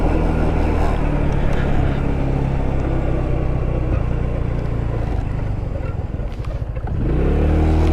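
A GY6 150cc scooter engine fitted with a new exhaust runs close by with a low, rumbling idle that stays steady throughout, dipping briefly and then picking back up near the end.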